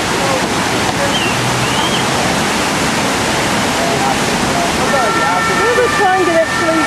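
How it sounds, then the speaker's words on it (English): Water rushes out from a river running beneath a main street in Munich, a loud, steady broadband roar filling the whole stretch, with faint voices briefly audible near the end. "This is just water coming out."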